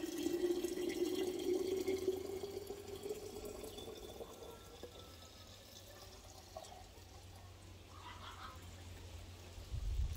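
Boiling water poured steadily into a glass jar of sweet cherry compote, a continuous splashing fill that rises in pitch as the jar fills, close and moderately loud with no talking.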